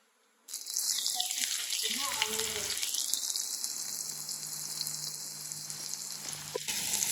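Onions fry in a spoonful of oil for a smashed brinjal curry, a bright, close sizzle that bursts in suddenly and holds steady with a few stirring scrapes.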